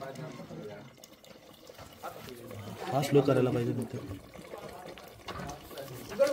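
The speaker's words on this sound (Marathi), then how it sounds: "हे टाक टाक झालं गरम पाणी" Hot water is poured into a pot of cooking mutton at an outdoor cooking party, a short splashing, bubbling pour in the middle under people talking.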